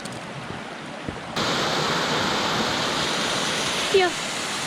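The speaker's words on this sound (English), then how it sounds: "Everywhere you turn on this trail, there's another waterfall." Waterfall on a forest trail in Ricketts Glen State Park, a steady broadband rush of falling water that grows louder after the first second and holds constant, with a brief higher chirp near the end.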